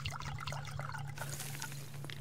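Pouring water and fertilizer onto crops in Subsistence, a burbling trickle of liquid that shifts into a broader splashing pour partway through, over a steady low hum.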